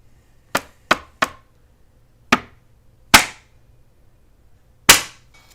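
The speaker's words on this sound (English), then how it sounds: "I'm gonna pop it 3 times because whenever I've had stuff here like this with plastic that's super tight like this, it makes an extremely loud sound" Tight plastic film over an Indian tomato corn bharta food tray being punctured with a fork, six sharp loud pops at uneven intervals, close and isolated against near silence.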